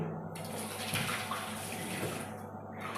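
Fruit is rinsed under a running tap, a steady wash of water splashing continuously and fairly close for a few seconds.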